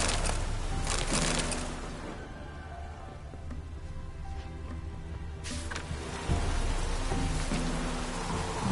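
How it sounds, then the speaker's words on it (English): Heavy rain pours steadily, a dense hiss of drops on surfaces that eases briefly midway before swelling back to full strength. "Proper downpour, this is."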